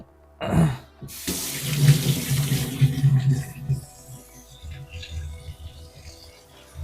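Tap water running into a sink in a student's home in Japan, a close splashing stream that starts abruptly after a short bump and then fades to a thinner trickle, with faint background sounds.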